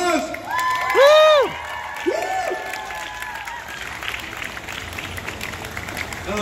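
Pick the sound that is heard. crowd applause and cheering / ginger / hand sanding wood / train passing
crowd applause and cheering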